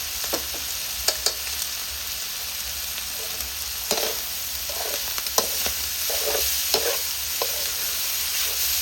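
Ingredients are stir-fried in a hot pan with pork, seasoning and soy sauce, giving a steady loud sizzle broken by repeated scraping and tapping strokes of a spatula, with no talking.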